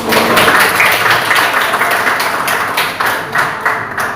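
A classroom of students claps together in a steady burst of applause lasting throughout, with scattered individual claps thinning toward the end.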